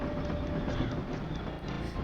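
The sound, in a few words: train running, from video game Paper Mario: The Thousand Year Door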